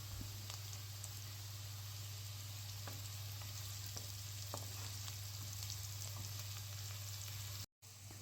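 Onions frying in oil in a pan with a little salt and turmeric added, for a bitter gourd stir-fry: a steady, fairly quiet sizzle with faint occasional crackles and a low hum running underneath throughout, with a brief dropout near the end.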